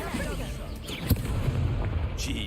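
Confringo fire spell exploding in Hogwarts Legacy gameplay, a sharp blast near the middle over a continuous rumbling bed of other game sounds.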